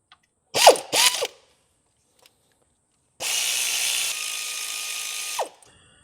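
A ratchet wrench loosening 12 mm fuel rail bolts on a Nissan X-Trail with a QR25 engine: two short, close clicking bursts, a pause, then a long steady ratcheting run of about two seconds ending with a final swing.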